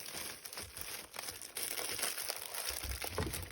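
Plastic packaging crinkles and rustles continuously up close, growing louder partway through as it is pulled and torn.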